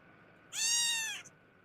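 A cat meows once from a played-back video, a clear drawn-out meow of about two-thirds of a second against quiet background.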